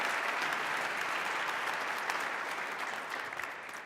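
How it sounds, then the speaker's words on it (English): Enthusiastic applause honors proclamation recipient Ms. Stevens at a 2014 Reverend Dr. Martin Luther King, Jr. tribute in Montgomery County, Maryland: dense, steady clapping from a large crowd that fades slightly toward the end. "Let's give her a round of applause."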